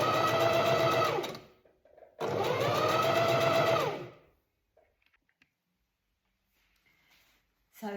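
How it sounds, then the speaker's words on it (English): A sewing machine straight-stitches lace trim onto a fabric frill for a cuff, running in two loud, steady bursts of about two seconds each with a short pause between, followed by quiet fabric handling. "So now I'm using a straight stitch and I'm just going to sew the lace trim onto the frill for the cuff."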